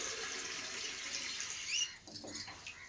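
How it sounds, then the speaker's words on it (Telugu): A glass of water is poured into a cooking pot of red lentil dal with drumstick leaves, a faint, brief splashing pour near the end over quiet kitchen background. "2 గ్లాసులు వాటర్ వేసానండి"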